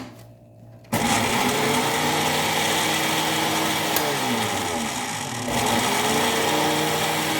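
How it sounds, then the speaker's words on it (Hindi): A countertop blender whirs loudly and steadily as milk is mixed into pancake batter, starting after a brief quiet moment, with a slight dip in pitch midway before the motor picks back up. "दूध इसमें डालेंगे और दोबारा से इसको ब्लेंड करेंगे"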